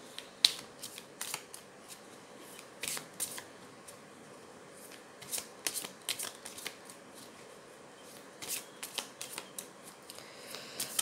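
Tarot cards being shuffled and handled during a reading, giving repeated soft riffling and flicking bursts in irregular clusters, fairly quiet and close, with no talk.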